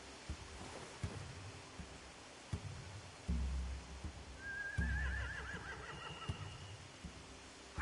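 A video game horse whinnies partway through, a rising then trembling neigh, amid low thuds and ambient noise with occasional soft hoof-like knocks.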